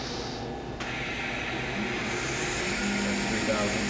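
A Fadal 4-axis CNC vertical machining center spindle whirs steadily at high range around 2,000 RPM, a continuous broadband machine hum with a tonal whine that steps up sharply near the start, with a voice speaking over it.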